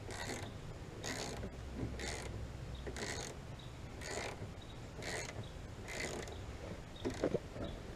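Ratcheting clicks from tightening the mounting fastener on a car side mirror, coming as a steady series of short, evenly spaced bursts about a second apart at moderate volume with no talk.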